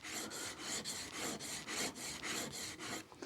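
A blade bevel from a century-old wooden hand plane is rocked back and forth across a sharpening stone in about a dozen even, rasping strokes, close and steady, with no talking.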